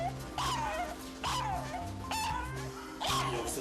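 An anxious dog gives four sharp, whining yips and barks at a steady spacing, close and clear, indoors in a veterinary setting, over a low background hum.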